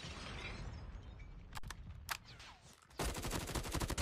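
Grau 5.56 rifle fire in a first-person shooter video game: a couple of sharp shots midway, then a dense, loud burst of rapid automatic fire closing out the moment over game ambience.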